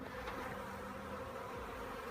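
A honey bee swarm hanging in a tree gives off a steady, dense buzzing that holds evenly throughout, with no voices.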